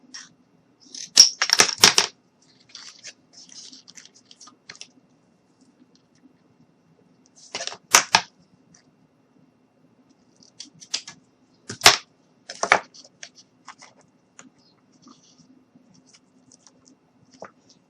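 Material is cut for a DIY fairy cottage craft in short, crisp clusters of snipping and scraping, separated by stretches of near silence, close and fairly quiet.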